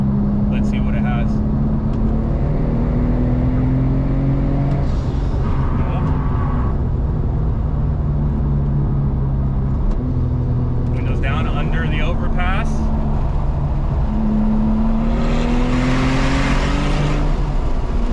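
An 800HP manual Porsche 997 Turbo pulls hard in fourth gear, its loud engine note climbing steadily in pitch over several seconds with brief shift breaks, as people talk and exclaim over it from inside the car.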